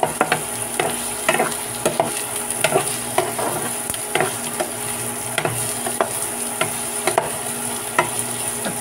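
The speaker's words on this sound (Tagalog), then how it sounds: "Lagay natin ang ating bawang at sibuyas" Garlic and white onion sautéing in a pan for a vegetable dish: a steady, close sizzle broken by frequent rhythmic clicks and scrapes of a spatula stirring, with no voices.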